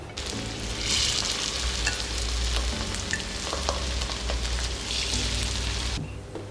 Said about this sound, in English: Now our oil is heated, so we are going to place our Madungo into the hot oil